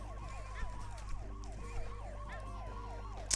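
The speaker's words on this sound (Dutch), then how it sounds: "politieauto." Police car siren in the Tasty Planet video game, a repeating wailing two-tone electronic siren cycling several times over a steady low background hum, with brief game effects.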